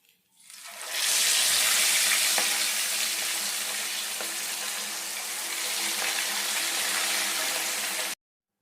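Loud, steady sizzling and spitting of rohu fish frying in hot oil in a pan, building quickly at the start and holding strong until it cuts off abruptly.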